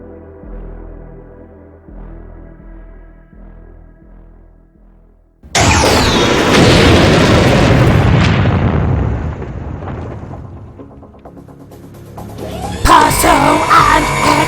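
A huge explosion in a Dalek science-fiction audio drama: a sudden loud blast that rolls and crackles for several seconds before fading, followed by another burst of loud noise, after a quieter low musical bed.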